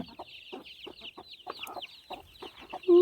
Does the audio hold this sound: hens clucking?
yes